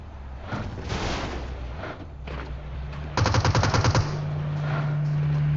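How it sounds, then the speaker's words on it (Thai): Automatic gunfire in PUBG Mobile on the snowy Vikendi map: one rapid burst of about a dozen evenly spaced shots, loud and close, rising over steady game ambience partway through. "ยิงทะลุต้นไม้มาเลย"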